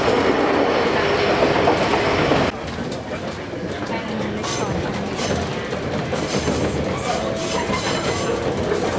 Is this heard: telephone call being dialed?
no